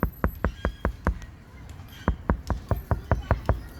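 Knuckle knocks on a Ford Flex door panel lacking sound deadener, a close series of sharp hollow raps in two quick runs with a short pause between.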